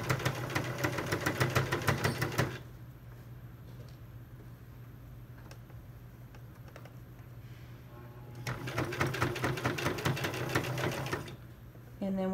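A sewing machine stitches along the folded neckline of a garment, its fast mechanical whir loud and close for about two seconds, stopping, then running again in a second steady burst near the end.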